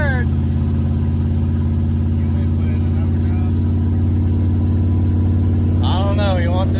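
A Chevrolet Camaro Z28 engine running steadily with a deep, constant drone heard from inside the car, and a brief voice near the end.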